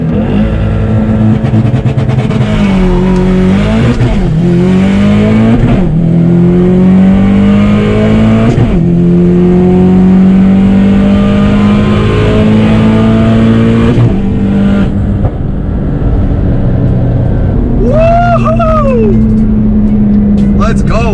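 A 500 hp Subaru STI with a rotated turbo and Tial Q blow-off valve pulls hard through several gears, the engine note climbing and dropping at each shift, loud and close from inside the car.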